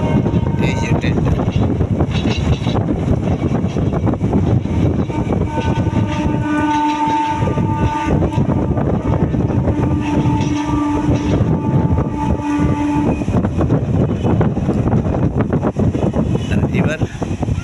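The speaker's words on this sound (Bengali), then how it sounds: "হাওড়ার এই ট্রেনটা ঘাট আরামবাগ কিংবা তারকেশ্বর থেকে আসছে, যাচ্ছে" A local train bound for Howrah, coming from Arambag or Tarakeswar, rumbles loudly past at close range, its wheels clattering steadily over the rails while a horn sounds in long, sustained tones through the middle.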